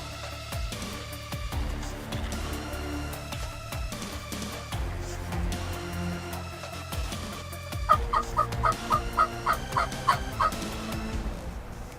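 A wild turkey gobbler calls from about five yards away in Missouri or Iowa hunting country, giving a loud rapid burst of gobbling near the end over a background of other bird sounds, with no talking.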